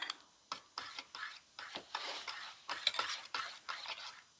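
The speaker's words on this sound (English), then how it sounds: "You mix it all up together" Egg mixture with soy sauce is stirred in a bowl, a utensil scraping the sides in a quick, regular rhythm of soft strokes, close and quiet.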